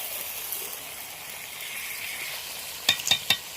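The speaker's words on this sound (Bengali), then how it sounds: "সামান্য একটু নাড়াচাড়া করে নিয়েছি দুধটা দিয়ে" Jackfruit and prawn curry simmering after milk is poured in, a soft continuous bubbling hiss that ends in three quick, close scraping knocks of a spoon against the pan.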